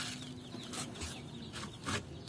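Chickens cluck in a few short, faint bursts over a quiet background, with no one speaking.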